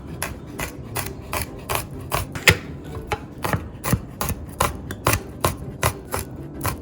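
Knife chopping three garlic cloves on a board for a Korean pancake, a fast, even series of crisp taps, close and fairly quiet, with no voices.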